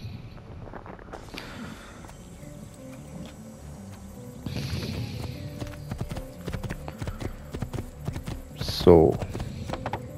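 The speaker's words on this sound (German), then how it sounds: "So, dann reiten wir jetzt mal ein bisschen." Horse hooves clip-clop steadily as a mount is ridden in Assassin's Creed 2, the rhythmic hoofbeats close and continuous, with a brief snort or whinny near the end and someone talking briefly at the start.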